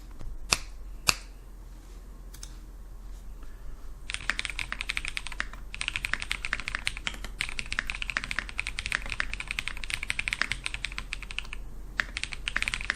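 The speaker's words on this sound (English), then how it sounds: "Let me just have you guys hear this keyboard" Rapid clacky keystrokes on a Redragon Elf mechanical keyboard, a few isolated taps first, then a fast continuous typing burst with brief pauses, close and crisp.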